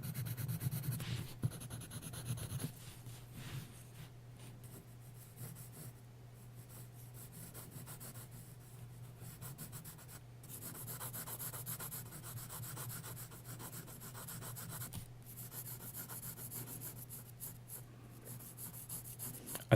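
Graphite pencil moving over paper in steady, close scratchy rubbing strokes, soft and continuous with brief pauses, alone with no talking.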